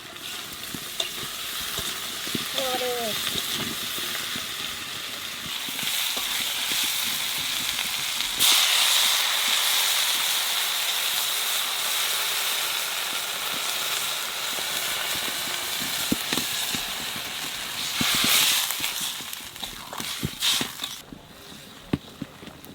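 Young green banana pieces fry in a pan, a steady close sizzle with stirring scrapes, then water is added and the hiss swells into loud bursts of steam before settling back to frying.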